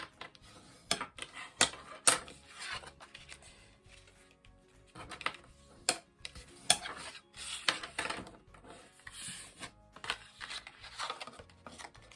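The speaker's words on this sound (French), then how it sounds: "Donc vous marquez votre pli." Card paper being creased along a fold for a pop-up card, repeated scraping rubs and brief sharp swipes close by, in irregular bursts with short pauses.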